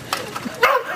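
A dog named in a family reunion setting gives a few short barks and yips, close by and brief, mixed with people talking over it.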